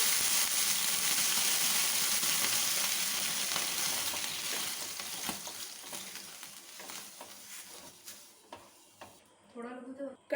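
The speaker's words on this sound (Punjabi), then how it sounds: "ਥੋੜੇ ਜਿਹੇ ਪਾਣੀ ਦੇ ਛਿੱਟੇ ਮਾਰ ਕੇ ਤਵੇ ਨੂੰ ਠੰਡਾ ਕਰ ਲਾਂਗੇ" Loud, steady hiss of water sprinkled onto a hot dosa griddle (tawa), close up, gradually fading and breaking into crackles before dying down at the end.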